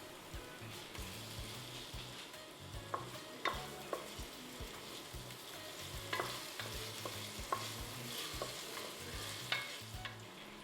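Tomatoes sauté in a hot pan, a steady sizzle broken by repeated scraping stirs of a spoon, close and fairly loud with no talking.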